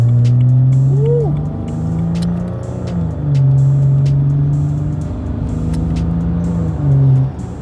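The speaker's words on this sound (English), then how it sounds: "It's not a shop video without a C63 cold start." Mercedes C63 cold start in a shop, the engine droning loud and close at high idle with repeated revs rising and falling, plus occasional pops and burbles over the rumble.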